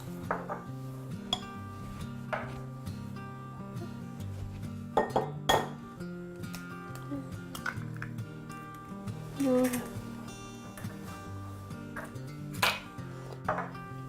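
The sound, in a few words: egg and salt being mixed into dough in a bowl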